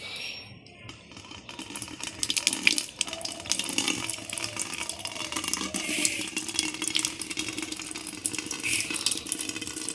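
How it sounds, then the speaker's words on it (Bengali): Water from a timed municipal tap pours into a bucket, a steady, close gushing and splashing that continues without a break, with faint rattles from nearby handling. "টাইম কলে জল চলে এসেছে"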